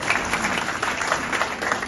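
Audience applause at a church Christmas service after a performer's scene: a dense, steady wash of many hands clapping, fairly close and continuous for a couple of seconds.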